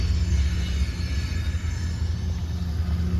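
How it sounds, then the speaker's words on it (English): A deep, loud rumble of a train rolling past, heard from inside a Mercedes W203, heavy low-end roar continuing steadily with slight fluctuations and no voices. "This train is really, really, really loud."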